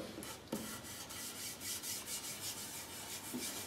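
A wax block is rubbed over the wood of a bedside table, working along the end grain, giving a soft, dry, rasping scrape in repeated strokes, close but quiet, with no voices.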